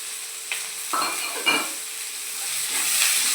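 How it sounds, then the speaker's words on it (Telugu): Curry leaves and mint frying in hot oil for pesarattu: a steady close sizzle with a few sharper crackles and spoon scrapes early on, no talking. "తర్వాత ఈ కరివేపాకు, పుదీనా కూడా ఇందులోనే వేసి వేయించుకోవాలండి"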